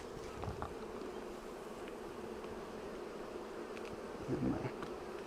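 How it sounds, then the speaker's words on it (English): Honey bees swarm around an opened beehive during box handling, a steady, moderately close droning buzz with brief louder swells as individual bees pass near, and no talking. "brush the remaining bees quickly"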